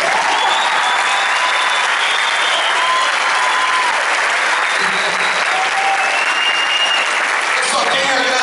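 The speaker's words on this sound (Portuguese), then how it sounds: "Pode aplaudir que eu não fico aborrecido." Audience applause at a concert, a steady, loud wash of many hands clapping, with some whistles or voices rising faintly above it.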